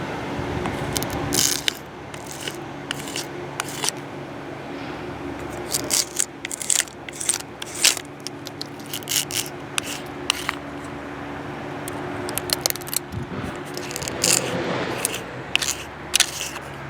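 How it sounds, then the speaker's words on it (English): Paint scraper scraping spotted lanternfly egg masses off a tree trunk outdoors, a run of close, irregular scratches and crackly scrapes in bursts, with no talking. "the paint scraper is a good tool to use, or a credit card or a gift card"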